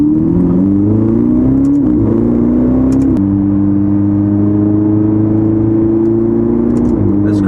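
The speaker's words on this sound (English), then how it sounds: "This car is loud." A Ferrari driven in race mode, heard from inside the cabin as a loud, sustained engine drone that rises in pitch, shifts and climbs again, with no talking.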